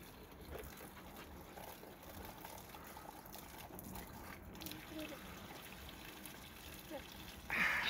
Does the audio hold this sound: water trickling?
yes